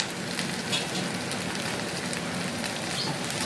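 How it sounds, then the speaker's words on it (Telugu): Ginger fries in a pan with a continuous soft sizzle and crackle like light rain, close and even throughout. "అల్లాన్ని కూడా మంచిగా ఫ్రై అవ్వనిద్దాము."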